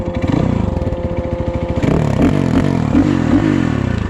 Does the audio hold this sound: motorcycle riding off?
yes